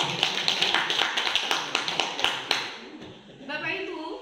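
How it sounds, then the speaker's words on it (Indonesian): Audience clapping in a room, dense brisk claps at close range, fading out toward the end as a voice begins. "Tepuk tangan untuk kita semua."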